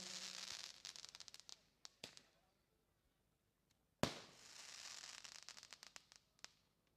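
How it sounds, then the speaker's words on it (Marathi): Firecrackers going off at an outdoor cricket tournament event, with a burst of rapid crackling pops, a lull with a few scattered bangs, then a sharp loud report followed by more dense crackling. "ही फटाक्यांची आतषबाजी"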